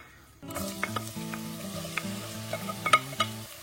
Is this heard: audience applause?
no